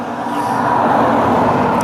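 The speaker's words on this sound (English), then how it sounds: "Sorry about the traffic noise. I'm actually sat in a bus shelter" Steady road traffic rumbles past a roadside bus shelter on a rural walk near Annan, a continuous loud wash of car and vehicle engine and tyre noise with no talking.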